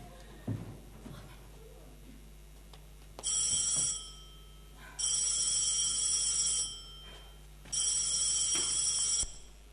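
An old-style telephone bell rings three times in long, bright bursts during a Greek stage play, with quieter shuffling and faint stage noise between the rings, no talk.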